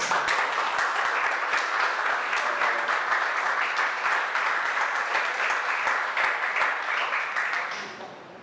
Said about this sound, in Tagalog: Palakpak po kay Jesus.